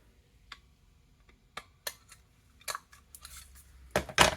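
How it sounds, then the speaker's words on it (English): Scissors snip a small paper scrap for a handmade card: scattered crisp cuts, first sparse and light, then faster and louder toward the end, close up with no talking. "or snip it with scissors."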